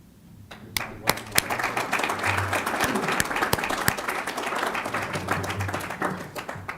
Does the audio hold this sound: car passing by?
no